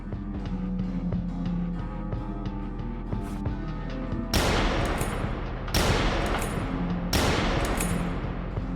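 Gunfire in the Kathy Rain 2: Soothsayer video game: three loud, sharp shots spaced a second or so apart, each followed by a ringing tail, over a steady low background hum.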